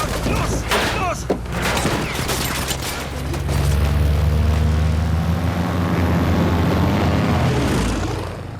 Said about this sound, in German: Die haben mir mein Flugzeug zerschossen, Nate.